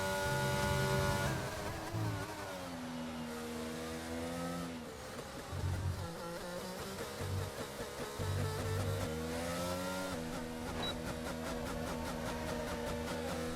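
McLaren race car in a racing video game, its engine note climbing and dropping through gear changes as it drives past, loud and up close, with no talk.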